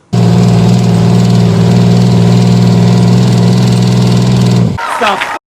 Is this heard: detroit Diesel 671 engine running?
yes